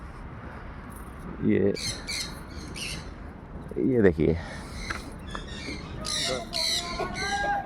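Birds at Chandigarh Bird Park give harsh squawks and high chirps in short repeated bursts, some close and loud, amid outdoor background noise while someone speaks briefly in Hindi.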